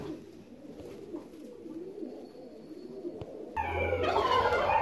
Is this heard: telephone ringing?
no